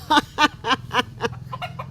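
A backyard chicken clucks in a series of sharp, close calls, about seven in quick succession, loud and unaccompanied.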